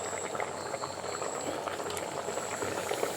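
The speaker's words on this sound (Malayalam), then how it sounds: "ഈ വെളിച്ചെണ്ണയും കൂടെ ഒഴിച്ച് കൊടുക്കാം." A sardine curry simmers with fresh coconut oil and curry leaves added, giving a steady, close bubbling hiss that stays even throughout, with no talking.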